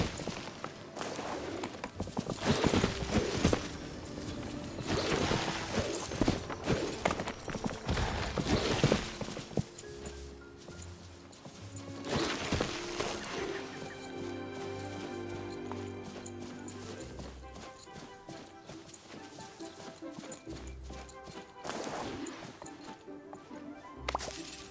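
Horse hooves clip-clop in the Disney Dreamlight Valley video game, steady rhythmic footfalls at close range with game music and effects, louder and busier in the first half, then calmer.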